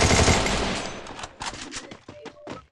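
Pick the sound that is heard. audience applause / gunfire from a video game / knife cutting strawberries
gunfire from a video game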